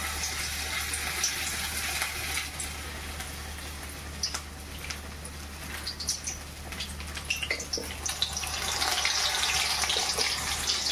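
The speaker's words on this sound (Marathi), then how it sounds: "याचं पिठात एक एक लॉलीपॉप बुडवून आपल्याला त्याच्यात टाकून" Batter-dipped chicken lollipops frying in hot oil at a cooking competition, a steady broadband sizzle and crackle with bursts of popping as pieces go in, close and fairly loud with no talk.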